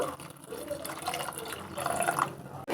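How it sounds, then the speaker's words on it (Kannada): Water poured steadily into a metal pressure cooker, a continuous splashing gurgle that stops abruptly near the end. "ಇದಕ್ಕೆ ನಾನು ಸ್ವಲ್ಪ ನೀರು ಹಾಕೋತಾ ಇದ್ದೀನಿ ಒಂದು ಗ್ಲಾಸ್ನಷ್ಟು"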